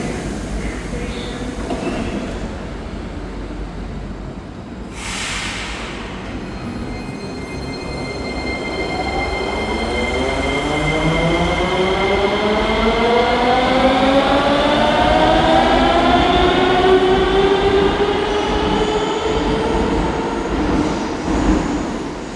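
A Sofia metro train runs through Lonsko Shose station, a loud steady rumble with rising, sweeping motor whine tones building over about twenty seconds, close by and without talk.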